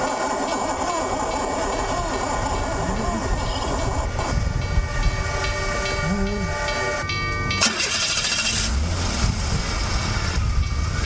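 A train sound effect for a radio drama: a steady rumbling, hissing train approaches and passes with bell and whistle tones, continuous and loud, with a voice speaking over it.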